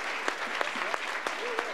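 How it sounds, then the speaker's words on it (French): Audience applause at a sustainable-development forum: a steady wash of clapping with a few sharper individual claps standing out, while a voice talks over it throughout. "applaudissement final pour toutes ces réponses"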